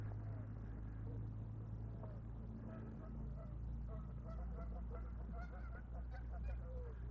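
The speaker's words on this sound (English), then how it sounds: "Lots of geese there on the shoreline." Geese honk on a lake shoreline on a sunny morning in Regina, a flock of overlapping calls at a distance over a steady low hum from an aeration fountain, growing busier in the second half.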